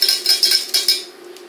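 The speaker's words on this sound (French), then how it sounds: "Et on va venir la mettre dans notre bouillon. Et on va bien mélanger" Metal utensil clinking rhythmically against a pot while stirring gelatin into broth, five or six quick scrapes and taps close by, then fading to quiet.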